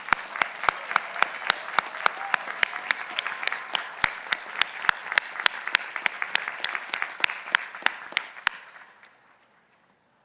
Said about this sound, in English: Please let's have applause for all of these faculty.